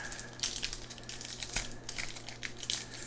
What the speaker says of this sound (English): If I can somehow open this pack